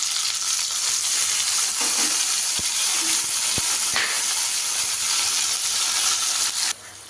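Tomatoes and green chillies frying in hot oil, a steady loud sizzle and hiss with a few faint clicks of stirring, continuing evenly before dropping slightly at the very end.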